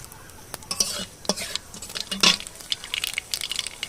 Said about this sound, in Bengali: তেল গরম হয়ে গেছে, আমি একটু কালো জিরে দিয়ে দেবো।